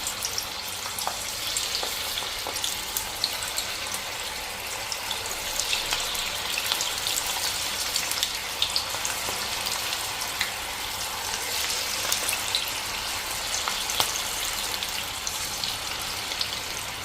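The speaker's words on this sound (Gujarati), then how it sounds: "તો હવે આપણે એને આ રીતે ભજીયા ઉતારી લેશું" Bajra-methi bhajiya fritters fry in hot oil, a dense, continuous sizzle and crackle with frequent small pops, close and loud throughout with no talking.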